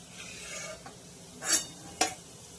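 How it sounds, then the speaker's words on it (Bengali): Chopped garlic sizzles softly in hot oil in a pan, with a few sharp scrapes and clinks from a utensil stirring it, two louder strikes standing out. "একটু বেশি করে রসুন কুচিয়ে ভেজে নিতে হবে।"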